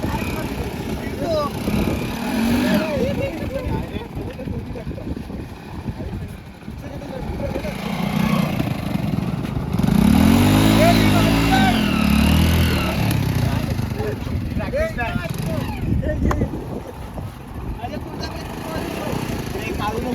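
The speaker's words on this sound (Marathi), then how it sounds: "गोल गोल फिरव गाडी. बाईक फिरव ना तुझी." A motorbike is ridden in circles on a beach, its engine droning steadily with a rising, revving sweep midway, heard under near-constant group chatter and shouting outdoors.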